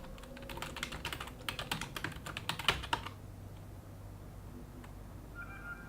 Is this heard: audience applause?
no